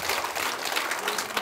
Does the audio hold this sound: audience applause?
yes